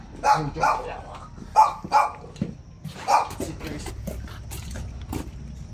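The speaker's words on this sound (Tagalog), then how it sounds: "Yung aso." A dog barks several times in short bursts, some close together, then trails off into quieter yips.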